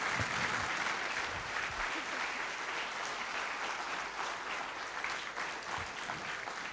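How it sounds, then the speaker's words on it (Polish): Steady audience applause for Michał at a Poznań speaker meetup, a warm, even wash of many hands clapping in an indoor hall, holding at a constant level with faint voices mixed underneath. "brawa dla Michała"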